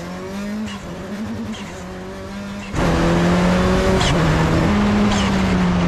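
A low-cost entry-level prototype race car drives on a circuit, its engine droning and shifting pitch before surging to a louder, harsher roar as the throttle opens midway through, with no talk over it.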